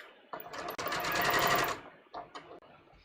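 Close, steady whirr of a sewing machine stitching a single row along a garment hem, one sustained run of about a second and a half followed by a couple of brief stuttering starts.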